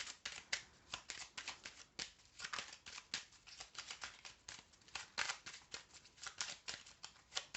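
Cards are shuffled up close in a steady run of quick, crisp riffling flicks that repeat throughout and stand alone with no talk.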